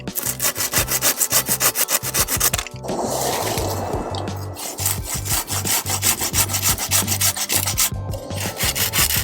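A hand saw cuts through dry wood in quick, rhythmic back-and-forth strokes, close and loud, with a brief pause partway through before the sawing resumes.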